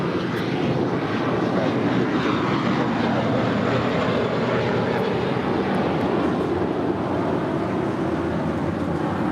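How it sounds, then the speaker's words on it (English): A Boeing 787 Dreamliner taxis at LAX for departure to Tel Aviv, a steady, broad jet-engine roar that holds constant and nearby throughout, with no voices over it. "Dreamliner making that left-hand turn on to Bravo, now making her way down for a departure back to Tel Aviv."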